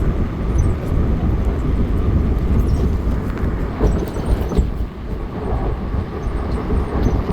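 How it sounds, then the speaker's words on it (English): Inside a passenger train in Italy heading from Naples to Rome, a constant, fairly loud rolling rumble with dense low-end roar carries on without pause, and no voices are heard. "Heading for our train to Rome,"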